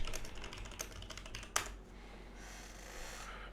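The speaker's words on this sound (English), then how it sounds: "I'll type as well." Quick bursts of typing on a computer keyboard with close, light key clicks and one sharper tap midway, fading into quieter background after about two seconds.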